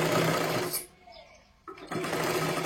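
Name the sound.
sewing machine stitching a katori blouse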